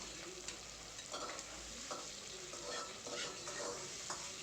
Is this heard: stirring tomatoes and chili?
yes